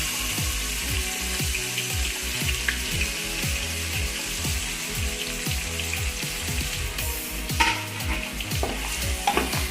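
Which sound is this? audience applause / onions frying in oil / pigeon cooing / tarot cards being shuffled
onions frying in oil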